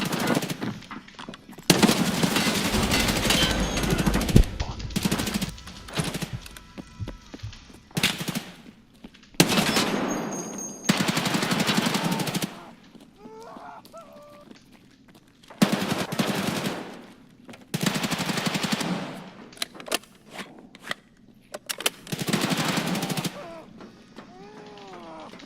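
Automatic gunfire in a first-person shooter game, loud rapid bursts of machine-gun fire repeating in several long strings separated by quieter gaps of ambient game noise.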